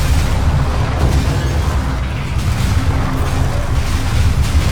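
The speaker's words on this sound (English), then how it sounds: "Kind of hard to tell where the monsters are with all the lava explosions." Lava explosions burst continuously in the video game Path of Exile 2, a loud, dense, rumbling barrage of booms with no pauses.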